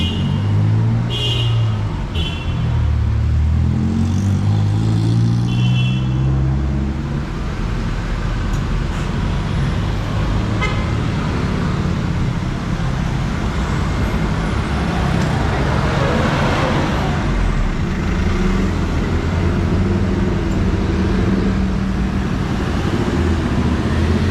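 Nighttime city street traffic in Medan, Indonesia, with buses passing: a steady, dense roar of engines and tires that stays loud and constant throughout, with no clear voices standing out.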